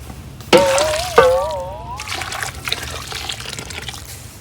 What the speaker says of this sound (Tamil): 2 லிட்டர் தண்ணி ஊற்றுங்க